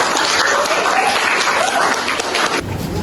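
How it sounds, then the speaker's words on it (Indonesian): Applause for a student group fills a university classroom session, dense and steady clapping from the audience for about two and a half seconds before it thins out abruptly near the end. "Tepuk tangan untuk kelompok 1."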